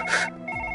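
A telephone rings once, a brief bright electronic burst that cuts off quickly, leaving a faint steady tone behind.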